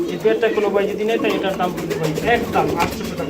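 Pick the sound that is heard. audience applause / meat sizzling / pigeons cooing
pigeons cooing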